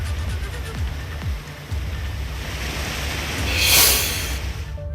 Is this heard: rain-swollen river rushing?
yes